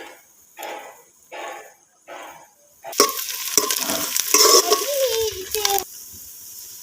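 Onions frying golden brown in a pan for chicken pulao, a loud hissing sizzle with stirring scrapes over about three seconds, preceded by someone speaking briefly in Hindi-Urdu.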